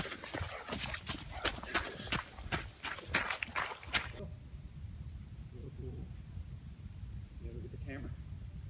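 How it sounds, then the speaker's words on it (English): A horse walks along a trail in the New Jersey Pine Barrens, its hooves sounding a quick run of clip-clops up close for about four seconds before it fades to quiet background with faint rustles. "I know it's a horse"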